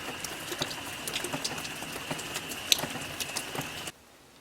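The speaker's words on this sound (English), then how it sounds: "It has rained the whole entire time." Rain falling steadily outside a farmhouse, a soft continuous patter with scattered droplet ticks at moderate distance, lasting most of the stretch before cutting off abruptly near the end.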